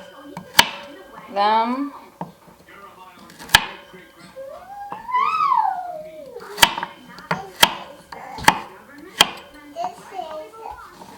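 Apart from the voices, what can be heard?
roughly chopping carrots with a knife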